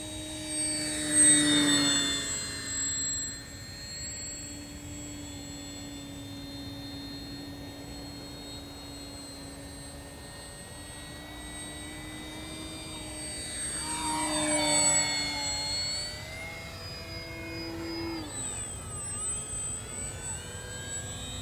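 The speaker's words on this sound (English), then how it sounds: "It flies inverted just as well as it flies right side up." An FMS 1220mm Ranger V2 RC model airplane flies overhead, its high motor whine rising and falling in pitch as it makes passes and manoeuvres, growing louder on close approaches and fading between them, with no voices.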